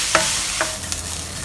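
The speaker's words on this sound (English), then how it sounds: "So we will continue frying until they are soft." Onions, garlic and ginger frying in a pan, a steady loud sizzle broken by a few quick scrapes of stirring.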